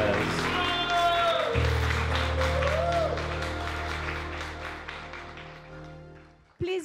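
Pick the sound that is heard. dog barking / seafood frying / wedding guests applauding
wedding guests applauding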